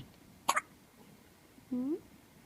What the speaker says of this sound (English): did you have the hiccups?